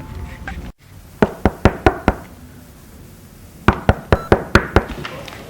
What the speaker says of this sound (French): quelqu'un frappe la porte.